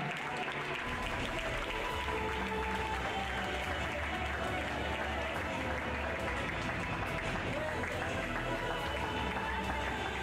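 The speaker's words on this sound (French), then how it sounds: "Et je vous demanderai d'applaudir encore plus fort." Audience applause at an equestrian pony show-jumping award ceremony, a steady, fairly faint wash of clapping from a crowd with talk mixed in.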